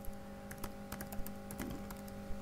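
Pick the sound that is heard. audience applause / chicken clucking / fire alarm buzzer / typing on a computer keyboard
typing on a computer keyboard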